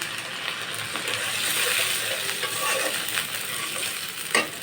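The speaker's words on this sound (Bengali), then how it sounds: "এখন আমি সামান্য পানি দিয়ে দেবো মশলাটা কষানোর জন্য" Onion and garlic spice paste sizzling in a pan as a little water goes in, a continuous frying hiss with scraping stirs, ending on a short sharp spatter.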